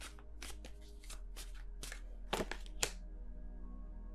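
Tarot cards shuffled during a reading, a series of crisp, close card riffles and taps in a fairly steady rhythm over a low hum, quiet overall.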